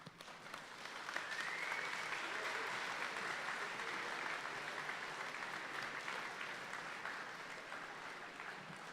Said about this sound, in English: let's give a thunderous round of applause to the parents, guardians, teachers, staff, special guests here tonight